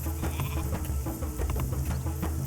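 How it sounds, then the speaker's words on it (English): Sheep from a sheepfold bleat repeatedly in the Northgard strategy game, several overlapping wavering calls over a low steady hum, fairly close and with no talk. "We have sheep."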